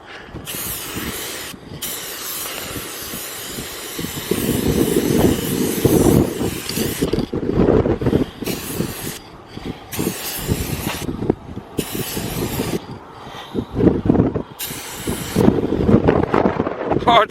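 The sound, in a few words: strong wind blowing into the microphone outdoors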